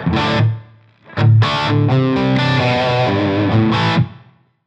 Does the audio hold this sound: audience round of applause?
no